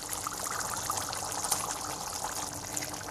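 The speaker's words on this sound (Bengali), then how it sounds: "এবার আমি চর্বি দিয়ে দিচ্ছি" Goat fat drops into a pot of chana dal already cooking, giving a soft, steady wet hiss and bubbling that stays even and moderately quiet throughout, close by and with no talk.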